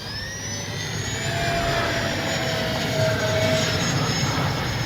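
An RC F4U Corsair warbird on a 4S battery makes a full-speed pass into the wind. Its electric motor and propeller give a sustained, loud whine with a slowly shifting pitch. No one speaks.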